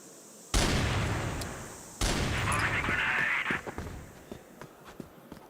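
Gunfire in the tactical shooter CrossFire during an esports match, bursts punched through a wall, opening with two sharp onsets and sustained crackling fire, then scattered fainter shots trailing off.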